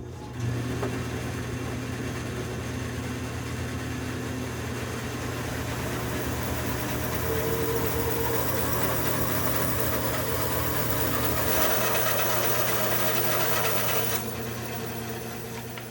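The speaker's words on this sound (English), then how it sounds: "I'm going to cut this into a wedge shape. And I'm going to do that semi-freehand on the bandsaw." A bandsaw runs steadily with a low motor hum, cutting semi-freehand through a wood block to shape a wedge for a card scraper holder, the tone shifting slightly as the blade bites and then finishes the cut.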